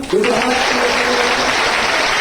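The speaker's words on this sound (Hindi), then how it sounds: "दोनों हाथों को उठाकर ताली तो बजाओ" A church congregation claps with raised hands during a Hindi and Bengali worship service: loud, dense, continuous applause with voices mixed in.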